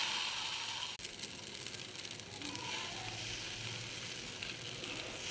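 Dosa batter sizzles steadily on a hot pan, a loud, continuous crackling hiss that fills the clip with no talking.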